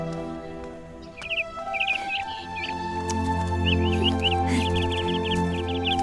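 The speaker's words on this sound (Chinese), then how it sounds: "哪来的黄雀啊？" Small yellow songbirds chirp in short, bright bursts from a cage inside a palace chamber, repeated trills scattered over several seconds above a steady low background hum.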